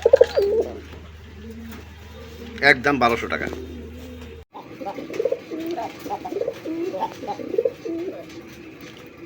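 A pair of red-eyed Rasgolla pigeons coo repeatedly at close range in a farm loft, the soft rolling calls coming in bursts alongside someone talking.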